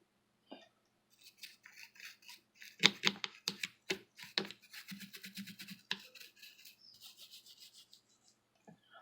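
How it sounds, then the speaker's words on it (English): A toothbrush lightly scrubbing over the metal parts of a Singer 201 sewing machine: close, soft bristly rasping strokes in short irregular bursts, quiet pauses at the start and end. "I'm just gently brushing over this area"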